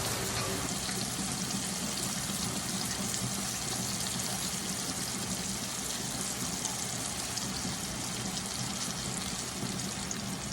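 Eggs sizzle and crackle in a hot pan, a steady dense frying hiss that holds evenly for the whole stretch without pause.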